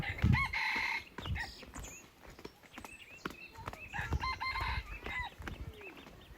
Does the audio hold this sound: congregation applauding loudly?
no